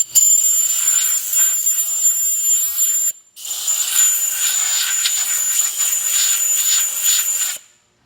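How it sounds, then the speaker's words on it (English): Compressed air hisses in two strong bursts, clearing crud from the hub of a Ford F150 front wheel before the ABS wheel speed sensor is pulled. It sounds loud and close, with a brief gap between the bursts and no talking. "take a little bit of compressed air and blow all this out"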